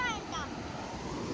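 Surf breaking steadily on a beach during rain, a continuous broad wash of waves with a brief whistling gust or voice-like tone near the start.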